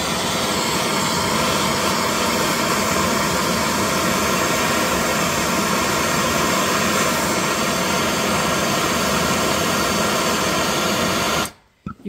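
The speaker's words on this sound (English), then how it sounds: "We're going to light the Fixer with a little nap gas." A Fixer grill's torch burns on MAPP gas with a steady, loud, broadband roar and hiss that runs nearly the whole time, then cuts off abruptly near the end.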